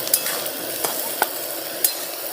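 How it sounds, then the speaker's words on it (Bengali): Onions sizzle steadily in a hot pan with sugar added, with a few sharp scrapes of a spatula stirring at intervals; close and continuous, no talking. "চিনিটা দিয়ে আরও কিছুক্ষণ পেঁয়াজটাকে ভেজে নেব।"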